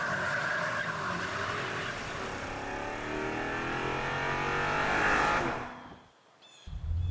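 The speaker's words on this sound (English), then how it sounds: "as soon as you really hammer the throttle, the V8 powers itself up and you've got the full 727 brake horsepower" A BMW M5 Touring's V8 roars under hard acceleration, rising steadily in pitch and loudness for several seconds before cutting off abruptly into near silence, followed by a brief low rumble.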